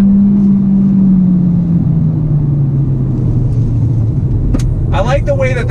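A 2019 Hyundai Elantra Sport downshifts to third and pulls on the road. A steady engine drone slowly drops in pitch under continuous road rumble, and a voice speaks briefly near the end.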